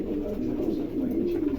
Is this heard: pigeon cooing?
yes